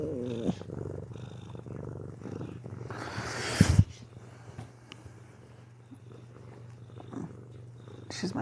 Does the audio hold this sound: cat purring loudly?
yes